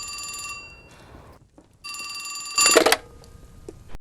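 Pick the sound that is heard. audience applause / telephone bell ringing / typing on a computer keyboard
telephone bell ringing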